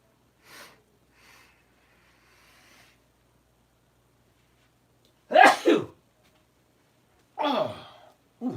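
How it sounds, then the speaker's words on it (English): A few faint breaths, then two loud, explosive sneezes a couple of seconds apart, close by with quiet between. "Oh, ooh, I love a good sneeze."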